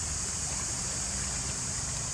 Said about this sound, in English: Look at it all go, look at all these little rivulets.